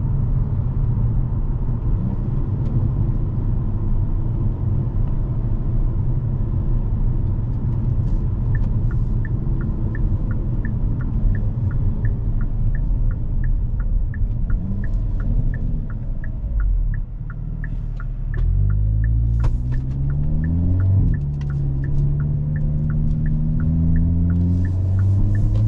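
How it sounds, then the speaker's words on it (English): A 2023 Hyundai Kona N's engine drones steadily from the cabin, with a steady rumble and hum; near the end the pitch sweeps up and drops several times as gears are shifted up and down. "So much fun just shifting up and down through this gearbox."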